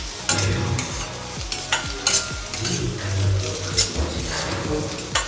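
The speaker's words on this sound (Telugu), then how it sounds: "ఇప్పుడు దీన్నంతా బాగా కలిపేసుకుందాం" Boiled egg masala with garam masala and curry leaves stirred in a hot pan, rhythmic scraping strokes of a spoon over a steady sizzle of frying, close and clear.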